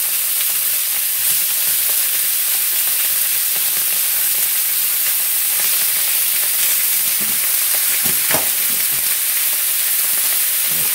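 Chicken breasts fry in a hot pan with a steady, loud, unbroken sizzle that fills the whole stretch, with no talking.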